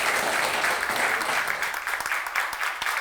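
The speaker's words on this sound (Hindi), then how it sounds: "तालियां दीजिए।" An audience claps loudly for a few seconds, a dense, steady patter of hands with some sharper individual claps near the end.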